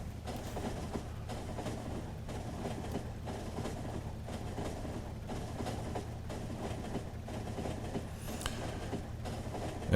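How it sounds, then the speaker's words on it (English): Trains run on rails in the video game Factorio, a steady, continuous rolling rumble with faint rhythmic clicks, filling the whole stretch without talk. "There's trains lining up to get in there."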